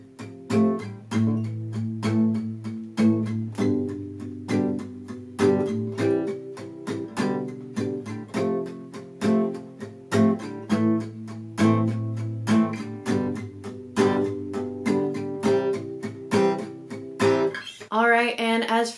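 An acoustic guitar strums the verse chord progression of a song in steady, evenly spaced downstrokes, ringing clearly and alone before ending with a brief sliding flourish.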